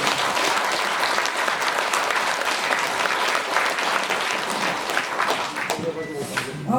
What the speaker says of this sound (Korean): 청장님께 먼저 박수 한번 보내드리고 싶습니다.